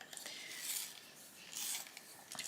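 A cool grey colouring pencil being turned in a sharpener, giving soft gritty rasping scrapes in a few bursts, close and quiet, with no talk.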